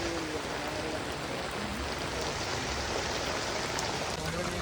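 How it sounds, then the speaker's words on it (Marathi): Steady rain pours down at a Dahi Handi practice of a Mumbai Govinda troupe, a dense, even wash of falling drops that stays constant and fairly faint throughout with no voices breaking through. "पाऊस पडतोय तरी पण प्रॅक्टिस काय थांबली नाही आहे"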